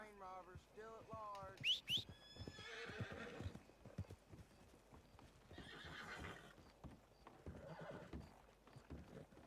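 A horse in Red Dead Redemption 2 whinnies loudly with a rising, shrill neigh, followed by snorting breaths and rhythmic hoof clip-clops nearby.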